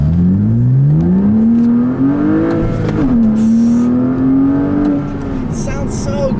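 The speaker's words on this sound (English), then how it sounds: "Sounds so good, that fast speed exhaust, that flat six sound" A 2006 Porsche Cayman S with a manual gearbox accelerates hard, its flat-six exhaust rising steadily in pitch, dipping briefly at a gear change and then climbing again as a loud, close, continuous engine roar.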